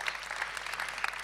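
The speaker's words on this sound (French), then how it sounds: "Qui sont là, on peut les applaudir," An audience claps for the coaches of a music school, a dense, steady patter of hands at moderate loudness across a brief moment, with no voices over it.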